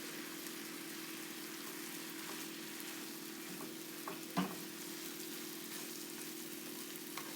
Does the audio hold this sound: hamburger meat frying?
yes